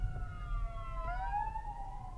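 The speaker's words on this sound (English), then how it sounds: "Ambulance." An ambulance siren wails faintly in the distance, its pitch sweeping and shifting over a low rumble of background noise.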